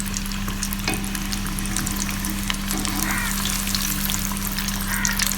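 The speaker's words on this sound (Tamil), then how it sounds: "சூப்பராக நல்லா பொரிஞ்சு வருது, அருமையாக இருக்குது பார்க்க." Fish pieces for Kotthangudi-style fried fish sizzle and crackle in hot oil, a dense, steady frying hiss with scattered pops, close and continuous with no talking.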